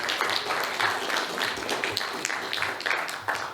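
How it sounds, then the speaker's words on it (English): A conference audience applauds after a talk, with a steady wash of many hands clapping at close to medium range that holds for a few seconds. "Please give them a round of applause"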